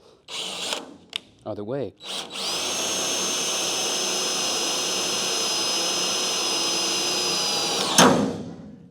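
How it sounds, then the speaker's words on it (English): A power drill running a screw into the sheet metal of an OBS truck while fitting a roll pan: a few short bursts and a brief word, then a steady high whine held for several seconds before it cuts off with a clunk. "if you're drilling out spot welds to separate sheet metal panels and you have the drill going backwards"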